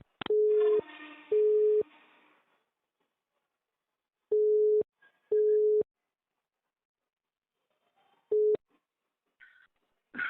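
A telephone line playing a repeating on-hold beep pattern, steady electronic tones in pairs with silent gaps between them, clear and isolated, with no talking.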